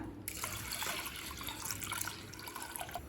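Water poured in a steady stream over washed moong dal in a pressure cooker pan, a continuous splashing rush starting abruptly and running close and clear.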